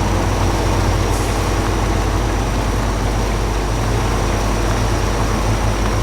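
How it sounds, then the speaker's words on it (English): A logging truck's V8 engine, Scania-like, in the video game MudRunner drones steadily and loudly as a low, even rumble with no breaks or talk. "It sounds like a Scania V8 sound or something."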